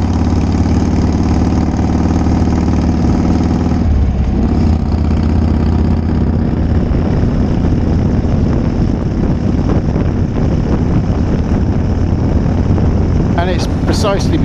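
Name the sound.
Harley Davidson Shovelhead motorcycle engine running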